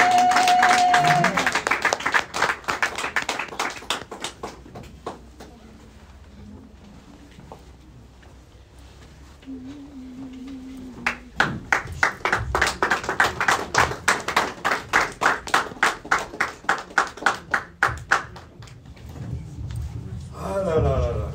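A church congregation claps and cheers for God in rhythmic bursts, with steady regular hand claps building strongly in the second half while someone speaks and voices call out between rounds.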